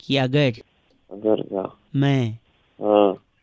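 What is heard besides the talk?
No distinct noise like a dog, phone or traffic.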